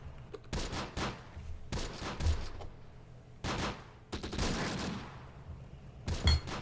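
Gunfire in the WWII strategy game Close Combat, set in Italy: several bursts of rifle and machine-gun fire rattle in quick clusters, some sharp and near, others longer fusillades separated by brief pauses.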